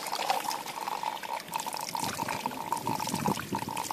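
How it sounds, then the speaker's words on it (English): Water falling straight down through a pipe tee toward a water wheel at a water ram pump setup, a steady close splashing pour with continuous trickling and gurgling. "This is just a T where the water's falling straight down"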